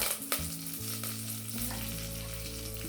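Urad dal, ginger and curry leaves fry in oil with a soft, continuous sizzle, over a low steady humming tone.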